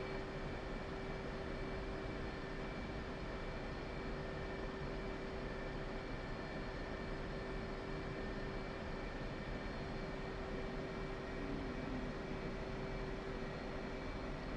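A fixed-wing aircraft taxiing to parking in a flight simulator game, a steady, even engine drone with a constant whine, running unbroken and alone throughout.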